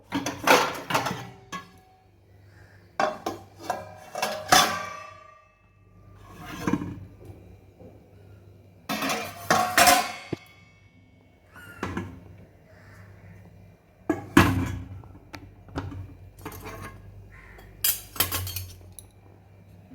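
Freshly washed dishes and pots set up onto a shelf, with loud clattering bursts of metal and glass clinks and knocks at irregular intervals, close by and without speech.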